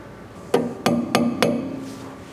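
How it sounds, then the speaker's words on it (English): A small hammer tapping a cotter pin into a boat propeller: four sharp metallic taps in a steady rhythm, close and loud, each with a short ringing tail. "you're gonna grab your cotter pin, your little hammer, just to tap it in there sometimes."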